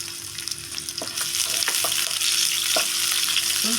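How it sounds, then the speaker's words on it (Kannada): Chopped onion hitting hot oil and frying for a brinjal palya, a steady loud hiss that swells after the drop, broken by a few scraping stirs of a spoon in the pan, with no voices. "ಇವಾಗ ಈರುಳ್ಳಿ ಹಾಕ್ತಾಯಿದ್ದೀನಿ"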